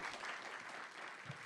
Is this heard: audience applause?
yes